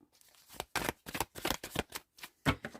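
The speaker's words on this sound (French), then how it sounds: "On va brasser un petit peu." Oracle cards are riffled and slid together in a few quick, crisp bursts, close up and quiet with no voice over them.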